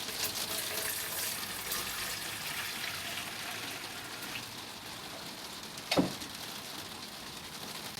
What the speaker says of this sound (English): And then we'll just tip this into here.